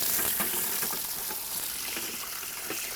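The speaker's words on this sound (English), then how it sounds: "We set our assembly down into the hole we've already dug and begin filling it with water." Water pours into the basin of a bubbling rock water feature set into a freshly dug hole outdoors, making a steady hissing splash with no talk.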